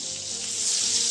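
Garlic and lemon zest sizzle steadily in a pan over medium heat, a close, continuous frying hiss that grows slightly louder toward the end.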